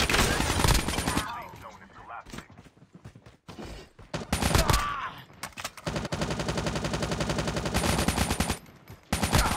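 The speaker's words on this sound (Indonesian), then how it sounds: "Tengok tengah tembak." Video game gunfire rattles in rapid automatic bursts and single shots, loud and close, with short quiet gaps between volleys.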